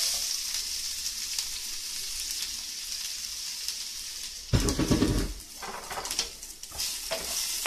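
Garlic and onion sauté in cooking oil in a skillet: an even sizzle, then a loud burst as more goes in, followed by stirring scrapes and continued crackling, up close.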